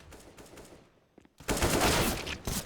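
Pistol gunfire in Counter-Strike: Global Offensive during a Team Liquid versus Optic Gaming match, with upgraded pistols: a dense, loud rattle of rapid shots that swells after a brief lull and carries on steadily to the end.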